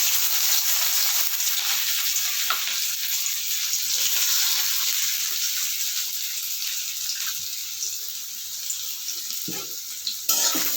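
Chopped onions frying in oil with black cumin give a loud, steady, close hiss that runs without a break, with no voices.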